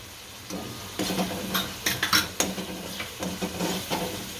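A spoon scrapes and clinks against a pot while stirring salt, turmeric and chili into ground tomatoes, producing irregular close metallic taps and a soft wet mixing sound, with no talking.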